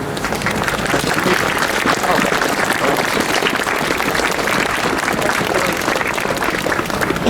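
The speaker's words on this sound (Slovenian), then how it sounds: "En velik aplavz za vse vpletene." Loud, dense applause from a crowd at an outdoor Christmas concert in a town square, continuous clapping filling the whole stretch without a break.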